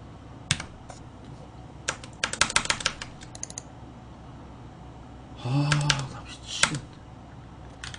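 Computer keyboard keys pressed during a Starcraft match, bursts of rapid close clicking with pauses, a short low thump partway through.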